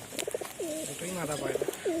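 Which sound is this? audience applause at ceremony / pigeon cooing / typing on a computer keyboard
pigeon cooing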